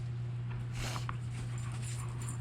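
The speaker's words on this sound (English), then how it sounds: "some dog barked in the neighborhood." A dog barks a few times, faint and distant, somewhere in the neighborhood after an October snowstorm, over the steady low hum of a hot tub running outdoors.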